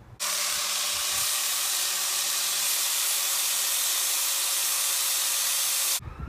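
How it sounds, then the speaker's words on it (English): An angle grinder fitted with a 40 grit flap disc shapes wood, running as one loud, steady, broadband abrasive roar for about six seconds before cutting off abruptly, close by and with no talking. "now I'm going to use a grinder with a 40 grit flapper disc or lap disc to"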